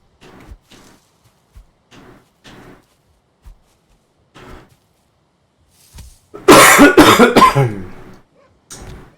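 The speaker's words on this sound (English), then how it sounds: "the cough sounds a lot worse than it is." A person coughs in a loud, harsh burst of several rapid hacks after scattered soft clicks and small noises, with one more faint sound afterward.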